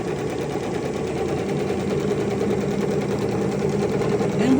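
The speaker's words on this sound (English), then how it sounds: "we're simply sewing straight down all the way to the top part" Close, continuous whir of a sewing machine running a straight seam on a purse, a steady fast mechanical hum with rapid needle chatter, unbroken for several seconds.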